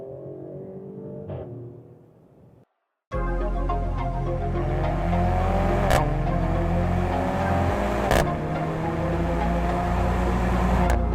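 A car engine idles briefly, cuts out, then roars back and revs loudly and steadily, with a few sharp blips of throttle.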